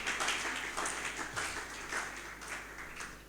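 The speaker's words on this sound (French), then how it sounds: "Applaudis fortement l'Éternel." Church congregation clapping strongly during a Sunday worship service, a steady dense wash of many hands applauding together at moderate distance throughout, with no break.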